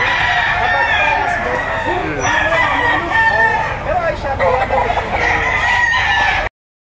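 A stag rooster crowing at a busy poultry auction market, with loud, close, drawn-out cock-a-doodle-doo calls and clucks over a noisy crowd background.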